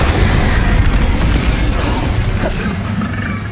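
The Incendio fire spell cast in Hogwarts Legacy, heard as a loud, dense rumbling whoosh with low booming bursts lasting a few seconds.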